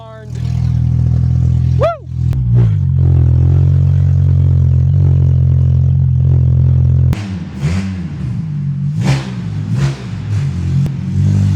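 A Mk2 Volkswagen GTI with a swapped 07K five-cylinder engine cranks, fires and settles into a loud, rumbling idle, then is revved in sharp bursts up close, with a man's short whoop of excitement in between.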